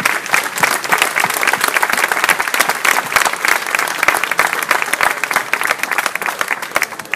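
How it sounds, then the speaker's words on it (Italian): An outdoor street crowd applauds activists at a public meeting on Eurozone austerity: loud, close, crackling handclaps with many sharp individual claps standing out, sustained throughout and tapering slightly near the end. "you can give them a round of applause"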